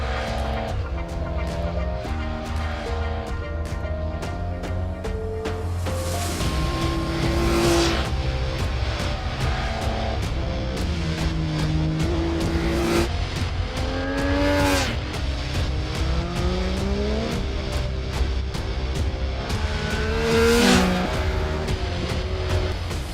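A Triumph Speed Triple 1050 RS motorcycle being ridden, its engine droning loudly and steadily with rising and falling revs through gear changes, several sharp swells as it accelerates.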